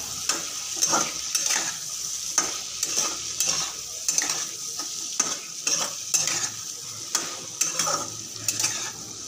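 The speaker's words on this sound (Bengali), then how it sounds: "একটু নেড়ে নিই। খুব বেশি ভাজবো না, যাতে পুড়ে না যায়" Parshe fish sizzles steadily as it fries in a pan, with a spatula stirring it in repeated scraping strokes roughly every second, close and fairly loud, no voices.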